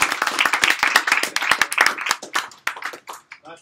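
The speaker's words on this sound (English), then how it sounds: "let's give John another round of applause" Applause from an audience at a tech demo day, dense clapping that thins out toward the end, with some voices mixed in.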